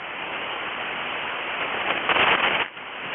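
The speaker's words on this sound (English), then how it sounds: "I got some static crashes." Static crashes from nearby lightning on a ham radio receiver tuned to the 7255 kHz band, a steady hiss with a louder burst of crackling near the end.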